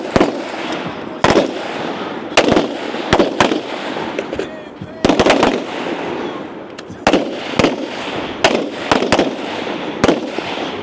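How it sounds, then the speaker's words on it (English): Sharp pistol and rifle shots crack out in irregular bursts and pairs during a practical shooting competition stage, loud and close, with background commentary talking through the run. "To the left here is Daniel Armstrong, already making work on that pistol portion."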